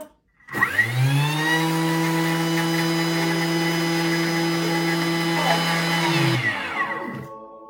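A Thermomix food processor spins up to speed 10 and whirs loudly with a steady, high-pitched motor whine for about six seconds, then winds down and stops.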